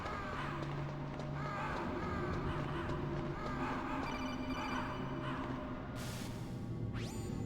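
A crow caws several times in Metal Gear Solid, its harsh calls set over droning game ambience, followed near the end by a bright electronic ringing tone.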